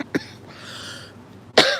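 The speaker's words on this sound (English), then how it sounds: "me and my coughing" Two close coughs, a short one at the start and a harsher, longer one near the end, separated by a soft breathy pause.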